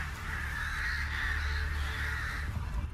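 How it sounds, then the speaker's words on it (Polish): Crows cawing repeatedly in the open-world game The Witcher 3: Wild Hunt, harsh calls steady and fairly close over a low ambient rumble, with no talking. "Nawet ptaki fajnie się zachowują tutaj."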